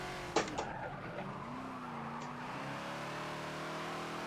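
A Ford Falcon XB in Forza at Homestead Road Circuit skids as its rear end steps out, a tire squeal gliding under steady engine drone after a brief sharp bump, moderately loud with no talk.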